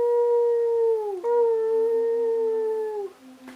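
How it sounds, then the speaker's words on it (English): A dog howls alone in long, sustained, mournful tones close to the microphone, gliding down at the end of each breath, then taking a brief pause before a second long howl that fades away. "He usually howls along with that because he thinks it's another dog."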